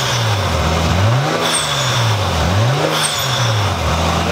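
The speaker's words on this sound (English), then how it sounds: "A little bit of boost action for the boys." A Nissan Skyline engine revs repeatedly with turbo boost, rising and falling in about three loud close sweeps, with a faint turbo whistle over the steady engine drone.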